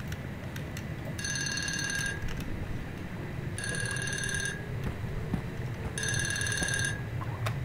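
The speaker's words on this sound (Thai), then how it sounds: "อันนี้คือออดโทรศัพท์ว่ะ" A telephone bell rings inside the survival horror game Unforgiving: A Northern Hymn, three bright metallic bursts about a second long, spaced evenly over a steady low background hum.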